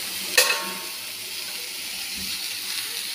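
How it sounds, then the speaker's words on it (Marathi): Chopped leafy greens drop into a hot pan over softened onion, giving a short splash-like burst followed by a soft, steady sizzle. "आता मी ह्याच्यामध्ये आपली ही चिरलेली पालेभाजी घालते"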